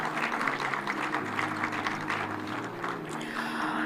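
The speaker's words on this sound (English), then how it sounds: "Ladies and gentlemen, a round of applause for Honorable Millie Odhiambo" Audience applause fills a hall at a devolution conference in Homa Bay, a steady, dense clatter of many hands heard from within the crowd, with a low hum underneath.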